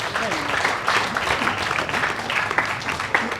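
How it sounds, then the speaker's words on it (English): Sustained, moderately loud applause from mourners fills a Christian wake, with a steady dense clatter of many hands and some murmuring voices underneath throughout. "Let's give a round of applause."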